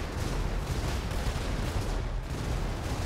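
Battle in the GTA 5 Red Dawn war mod: a dense, continuous roar of explosions and gunfire, loud and unbroken for the whole stretch.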